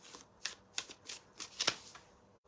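A deck of cards being shuffled during a tarot-style reading, a series of about six crisp riffling bursts in steady rhythm, fairly close and quiet, with no talking.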